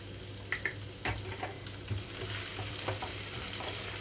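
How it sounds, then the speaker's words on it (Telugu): Chopped onions and green chillies frying in oil with cashews in a pan for semiya upma, a steady close sizzle with a low hum and occasional soft clinks and stirring scrapes. "ఇప్పుడు ఇందులోకి కట్ చేసి పెట్టుకున్న ఉల్లిపాయలు అలాగే పచ్చిమిరపకాయలు వేస్తున్నాను"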